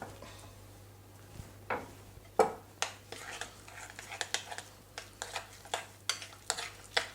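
A spoon scrapes and taps against a bowl while smoked mackerel pate is mixed, with irregular clinks and knocks that grow busier toward the end, heard close up over a low hum.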